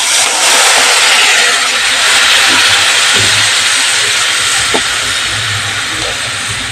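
Water poured into a hot pan for potato curry gives a loud, steady hiss that fills the whole stretch, with faint scraping knocks underneath.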